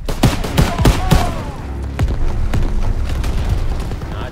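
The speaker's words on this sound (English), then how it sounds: "Another grenade out!" Rapid gunfire and heavy booms from a WW2 campaign video game battle: a dense burst of sharp shots and thuds up front, then scattered reports and a rumbling explosion trailing off.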